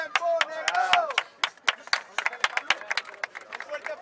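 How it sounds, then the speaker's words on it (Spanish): An audience claps at a rap battle semifinal, irregular sharp claps scattered among voices, with a few people shouting over them at close range. "Un fuerte aplauso, esto es semifinal"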